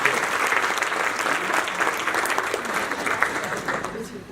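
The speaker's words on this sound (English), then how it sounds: "let's give them all a round of applause for coming up with that" An audience at a lunchtime talk breaks into dense, sustained applause, a steady wash of clapping from many hands with some voices mixed in, easing slightly toward the end.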